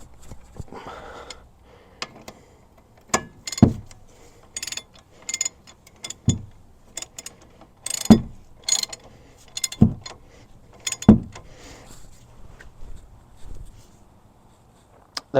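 Bolts on a Ford F250 brake assembly are tightened by hand, with sharp ratcheting clicks and metallic knocks arriving in irregular bursts, close and fairly loud against a quiet background.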